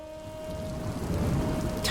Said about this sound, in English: Seriously? Rain? Now?